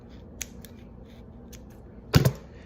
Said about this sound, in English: And you take your scissors